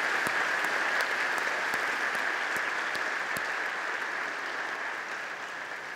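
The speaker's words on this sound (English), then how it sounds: "now we can give them their big applause." A church congregation claps in a sustained, even round of applause, with a few sharper individual claps standing out early on before the sound eases slightly toward the end.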